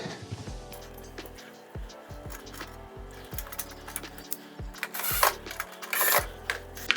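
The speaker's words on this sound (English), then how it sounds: "now you can add your screws back in." Screws being driven back into the control board of a KitchenAid KSIS730PSS0 range, with intermittent close ratcheting and mechanical whirring bursts, metallic scrapes and handling noise, fairly quiet overall.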